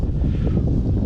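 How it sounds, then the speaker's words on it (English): Stiff wind at an RC plane flying field, where a Titanium Trainer model is flying, buffets the microphone as a steady low rumble that fills the whole moment, with no voices. "We've got a pretty stiff wind going"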